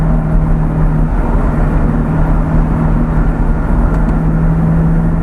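Sports car engine on the move, a Ferrari F430, Lamborghini Gallardo, Nissan GT-R or Corvette Z06, droning loud and steady with a low tonal hum and road rumble, with no talk.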